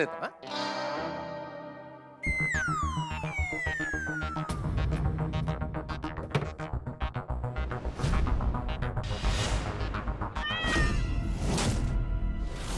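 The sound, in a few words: cat meowing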